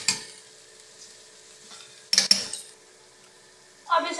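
A spoon scrapes and clinks against a cooking pan as spices are stirred together for a macaroni dish, with faint sizzling beneath and a few sharp metallic scrapes and taps, close by.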